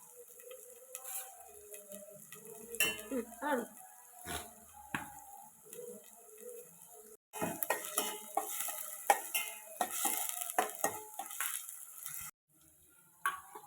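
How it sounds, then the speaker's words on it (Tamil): Two sprigs of fresh curry leaves sautéed with onions in a pan for a sardine fish curry: soft crackling and repeated spoon scrapes and clinks against metal, close, with brief pauses and no talking. "ரெண்டு கொத்து ஃப்ரெஷ்ஷான கருவேப்பிலை எல்லாத்தையும் சேர்த்து நல்லா வதக்கிடலாம்"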